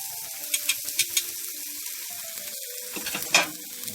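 Seasoned corned beef frying in a hot pot for a Jamaican breakfast gives a steady close sizzle, with a few sharp scraping clicks from stirring and a brief louder burst near the end.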